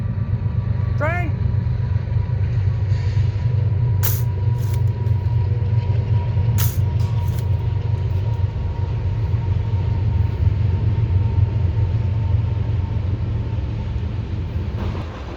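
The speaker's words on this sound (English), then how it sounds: "That's how close the train is to my home." A train passes very close to a home, a loud, heavy continuous rumble with a brief horn-like tone early on and a few sharp knocks, sustained for the whole stretch before easing slightly at the end.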